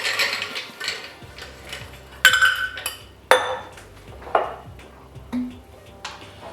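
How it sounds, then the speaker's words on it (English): Ice cubes dropped into a cocktail glass over grenadine, a run of sharp clinks and clatters against glass, close and fairly loud, alone without talk. "then you add your ice."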